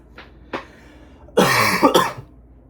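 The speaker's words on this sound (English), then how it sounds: "I'm sorry, I have a cough" Two faint short coughs, then a louder, longer burst of harsh coughing close by, fading into quiet.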